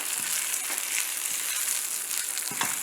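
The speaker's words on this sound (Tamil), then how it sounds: "மிளகா வறுப்பட்டு வச்சு நல்ல சத்தம் வருது" Dried red chilies and urad dal roasting in a pan, giving a steady close crackling sizzle with scattered sharp pops and occasional scraping stir sounds throughout.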